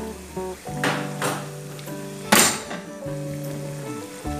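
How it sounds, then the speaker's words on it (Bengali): Ginger garlic paste frying in a pan for a fish-head murighonto, a bright sizzle that swells in bursts, with a sharp hiss near the middle and a sustained tonal hum underneath. "এখন আদা রসুনটাকে একটু ভেজে নিব"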